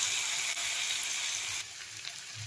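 A vegetable curry with small fish and a scattering of coriander leaves sizzles steadily in a hot pan, a dense continuous frying hiss with faint stirring scrapes underneath.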